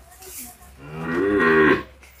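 A Holstein Friesian heifer calf at a cattle farm gives one drawn-out, rising moo, close and clear and heard alone.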